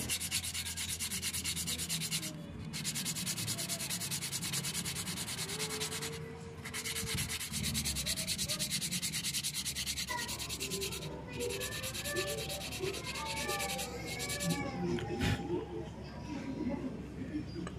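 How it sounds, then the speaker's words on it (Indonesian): Steady raspy rubbing of sandpaper on a wooden jump-frog fishing lure continues for a long stretch, with brief pauses between strokes and someone talking quietly underneath. "kita amplas saja Mas Bro, kita haluskan"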